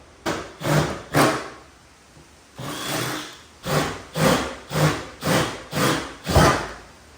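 A power drill bores 8.5 mm holes into a Honda Civic's trunk lid in repeated short bursts, about nine whining pulses with brief pauses between, close and fairly loud.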